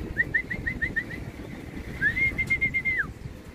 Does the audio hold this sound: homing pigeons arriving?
yes